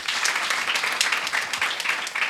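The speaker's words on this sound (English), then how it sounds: "So you can still give her a round of applause." Steady round of applause for a guest at a young women's dialogue event, continuous moderately loud clapping from an audience with no break across the short stretch.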